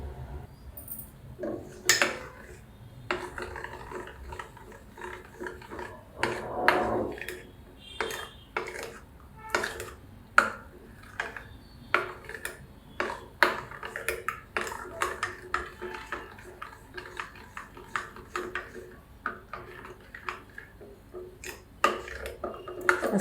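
A spoon clinks and scrapes against a metal pot while boondi laddu mixture is stirred, producing irregular, close metallic taps and rattles over a long stretch.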